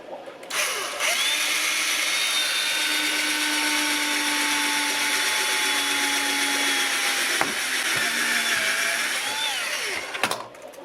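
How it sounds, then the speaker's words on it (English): Power drill spinning a step drill bit while boring a hole for a homemade sphagnum moss water filter, a loud continuous whine held for about ten seconds before stopping. "I'm just going to take my little step filter here, my step drill bit"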